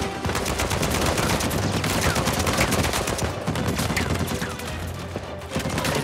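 Rapid, loud gunfire in the video game Uncharted 4, a dense continuous barrage of overlapping shots with sharp impacts throughout.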